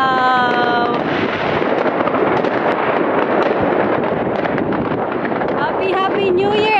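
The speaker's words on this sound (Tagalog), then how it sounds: "Maglabas po ako ngayon kaya para makita nyo mga fireworks dito." New Year fireworks burst outdoors over a city in a dense, continuous crackle of loud pops and bangs, with people talking and a whistle-like tone at the start and end.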